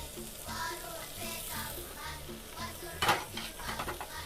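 A spoon stirs garlic in a pot while chicken cooks, with soft sizzling, scraping strokes and a sharp metallic clink partway through, close and moderately quiet.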